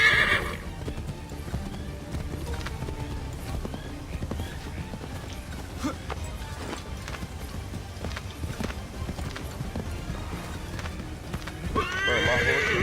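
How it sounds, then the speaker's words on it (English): A horse in a video game neighs and whinnies while its hooves clip-clop steadily, up close and fairly loud throughout. "my horse is tweaking"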